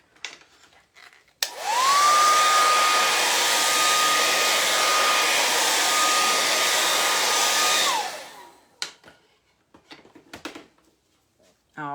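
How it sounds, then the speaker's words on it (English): A hair dryer dries paint on a canvas. It blows loudly and steadily for about six seconds, with a rising whine as it starts and a falling whine as it stops, and faint quiet handling sounds around it. "it's good to just dry it really good with the hairdryer"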